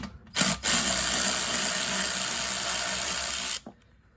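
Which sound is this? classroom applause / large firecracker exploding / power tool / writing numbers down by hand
power tool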